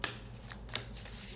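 A fairly new deck of cards is shuffled in a short, close riffle with crisp flicking bursts lasting just over a second.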